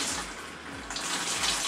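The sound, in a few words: leftover water draining out of a hose pipe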